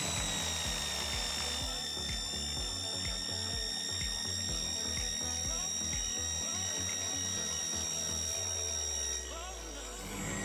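A DCK KZJ16 impact drill runs unloaded at its lowest speed, a close steady motor whine with a rhythmic ratcheting rattle, winding down near the end; a voice speaks over it.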